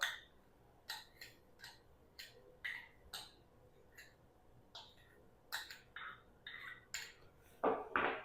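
A whisk or spoon clinks rhythmically against a bowl while mixing yogurt with tetra pack cream, giving a steady series of light, close taps that grow louder near the end, with no voices.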